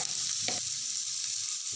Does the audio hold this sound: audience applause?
no